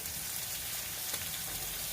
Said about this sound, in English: So we're going to continue frying these up.